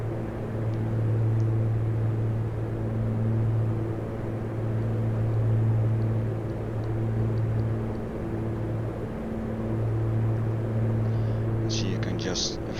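Steady drone of the twin piston engines of a Piper Aerostar descending with throttles pulled back, a continuous cabin hum with pulsing harmonics that swell and fade slightly, plus a few faint clicks near the end.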